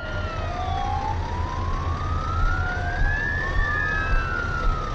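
An ambulance siren wails in Euro Truck Simulator 2, its tone sweeping slowly up and down over a steady, low truck engine drone.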